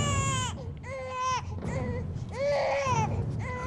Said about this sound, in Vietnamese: Nghe đi, tiếng khóc vang dội biết mấy.